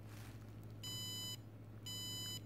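Alarm beeping from an FPGA-ARM internet digital clock built with a Raspberry Pi 4, two short bursts of bright electronic beeps separated by a pause, close and fairly quiet.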